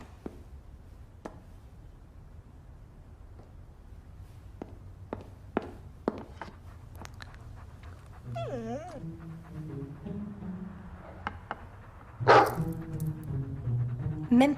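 A dog barks a few sharp times inside a cluttered house, then whimpers and whines in rising, wavering cries, with footsteps and faint movement in between.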